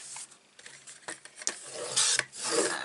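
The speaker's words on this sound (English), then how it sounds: "We're going to be using this to make our tag, so I want to trim this down to 1 7/8." Cardstock being trimmed down to size for a small card tag, heard as short rasping, scraping strokes that come in close, irregular bursts, the louder ones near the end.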